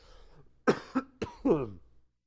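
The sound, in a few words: cough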